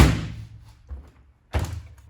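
The door of a Siemens tumble dryer is opened and shut, a close thunk at the start, a softer bump in the middle, then a firm latching slam after a brief silence.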